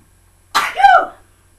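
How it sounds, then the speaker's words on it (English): One sharp, loud sneeze up close, a sudden burst that fades within a second, surrounded by silence. "sneezing, that's dust, that is."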